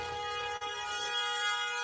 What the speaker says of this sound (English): That honk was promised to him.